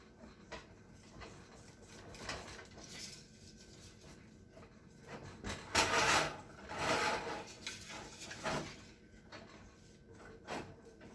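A wire whisk beats sweetened condensed milk and egg together in a bowl for homemade vanilla ice cream, giving soft repeated scraping and rasping strokes that build to a louder, busier middle stretch.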